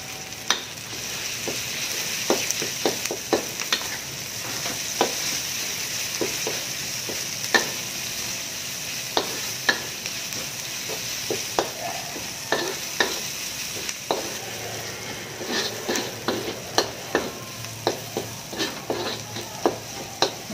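Onion and sambal frying in a pan, a steady sizzle broken by frequent sharp clicks and scrapes from stirring, close and fairly loud with no talking.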